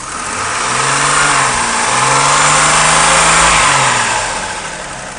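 2002 Chevy Trailblazer with a 4.2 liter engine and automatic transmission, heard close up as a steady smooth idle that swells in a couple of gentle revs and drops back.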